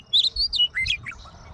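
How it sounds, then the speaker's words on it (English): Busy birds chirp and tweet at a rural summer property just outside Enderlin, bright quick calls in several short bursts, close and clear over quiet surroundings. "Summer flowers competing with busy birds for attention."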